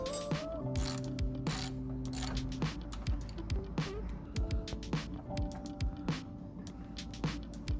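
An Allen key loosening the oil sump drain plug underneath a Fiat Punto Evo, heard as a string of ratcheting clicks and metallic turns at close range, repeating steadily with short pauses between strokes.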